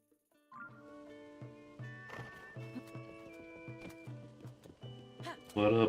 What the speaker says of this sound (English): This is Zelda's golden horse.